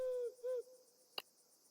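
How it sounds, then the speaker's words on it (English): Owl in the pixel-art video game Arco, two clear hoots in quick succession, the second briefly rising, followed by a quiet pause and a single sharp click. "Owl's been eyeballing you all week."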